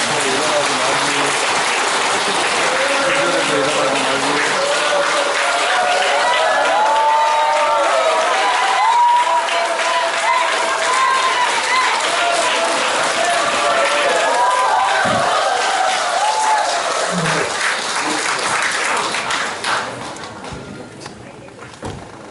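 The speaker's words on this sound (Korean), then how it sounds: "큰 박수로 환영해 주십니다" A crowd at a Korean election candidate's press conference at Gumi City Hall claps and cheers steadily for about twenty seconds, with voices mixed in, before the applause tapers off.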